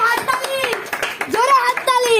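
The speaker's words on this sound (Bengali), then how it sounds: "হাততালি হাততালি" Hands clap in quick bursts at a home Lakshmi puja celebration, mixed with children's voices and chatter close by.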